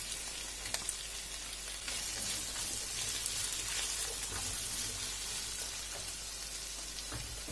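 Steady crackling sizzle of turkey, diced pepper and vegetables frying in a hot pan, continuous and close, with occasional small pops and no talking.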